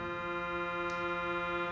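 An out-of-tune reed pipe on the Opus 414 pipe organ sounds a steady, buzzy sustained tone with rich harmonics, held alone and unchanging for under two seconds.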